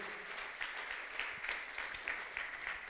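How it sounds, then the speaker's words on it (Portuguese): A church congregation applauds in a steady, fairly faint and distant patter of many hands with slight surges throughout. "Você pode aplaudir ao Senhor, querido, em nome de Jesus?"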